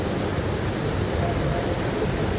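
Heavy rain pours down over a flooded road by the Marikina River, a dense unbroken hiss of falling water filling the scene at constant loudness.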